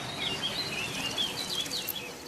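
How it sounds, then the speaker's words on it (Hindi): Baya weaver birds call from a tree where one is building its nest, a string of high, thin chirps and short trills repeating over steady outdoor background noise, moderately near and fairly soft. "अरे हाँ, ये तो बया चिड़िया है।"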